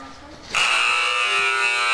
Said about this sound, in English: Now crews listen for computer-generated tones.